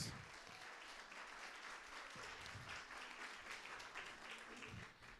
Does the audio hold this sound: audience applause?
yes